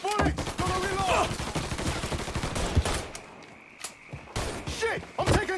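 Dense gunfire in Mafia III, rapid automatic bursts of close, punchy shots rattling almost continuously, a short lull, then more volleys, with shouted voices mixed in among the firing.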